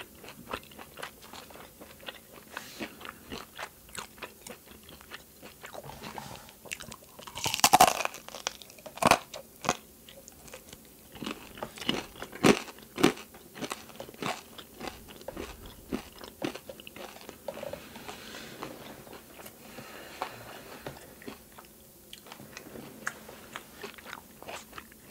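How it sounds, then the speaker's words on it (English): Crunchy food chewed close to the microphone during a relaxing mukbang, with steady crisp bites and crunching, a few louder snaps, and soft mouth sounds in between over about twenty-five seconds. "This crunch, bro."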